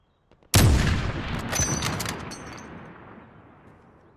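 Sniper rifle shot from the video game Call of Duty Warzone, recreated as a sound effect with a phone microphone: a single loud close crack followed by a long rolling echoing tail with faint mechanical clinks.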